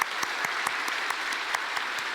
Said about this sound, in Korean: 우리 쟤들 위해서 한번 박수 한번 해줘